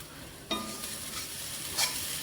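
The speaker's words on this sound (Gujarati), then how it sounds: "અહીંયા બની રહી છે વઘારેલી રોટલી" Vaghareli rotli, tempered flatbread pieces, fries in a pan and gets stirred, a soft continuous sizzle broken by scraping stirs, close and fairly quiet, with no talking.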